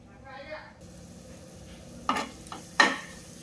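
A ground masala of black pepper, ginger, garlic and turmeric sautés in a pan with a soft sizzle, broken by two sharp scraping stirs of a utensil against the metal late on.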